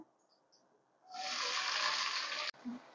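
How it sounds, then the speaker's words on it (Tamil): Sliced onions go into hot oil, reused from frying quail for a quail gravy, and after a quiet start a loud, dense sizzle bursts up and holds steady, then cuts off abruptly near the end. "எண்ணெய் சூடாயிடுச்சு வெங்காயம் போட்டுடலாம்"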